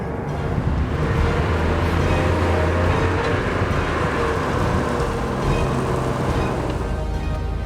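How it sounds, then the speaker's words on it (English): A tank drives with a loud, continuous low engine rumble and steady mechanical clatter throughout, close and unbroken. "we're driving a tank!"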